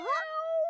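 A single drawn-out cat meow, clear and close, rising then holding a steady tone before stopping abruptly.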